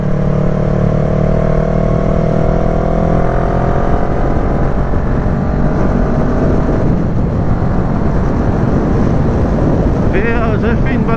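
A restricted motorcycle strains to climb through the revs on a countryside group ride, its engine a steady labored drone under heavy wind rush, with a faint rising whine near the end.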